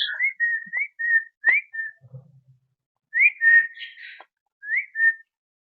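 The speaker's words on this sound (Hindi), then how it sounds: "थोड़ा सीटी बजा के बाहर निकालू" A person whistles in short chirpy bursts to coax birds out of an aviary nest at a small bird farm, clear close phrases separated by pauses, with a brief faint low rustle in the middle.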